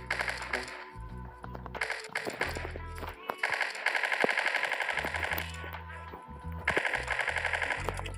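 Rapid automatic bursts from a P90 submachine gun in the Block Strike video game, loud close rattling fire in several sustained strings, with in-game music or sound effects and a voice talking between bursts.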